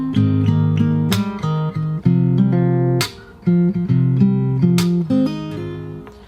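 Fingerstyle acoustic guitar plays a song refrain, slowing toward the end with plucked notes and ringing chords. The strong strums recur about once a second, loud and close, with no voices.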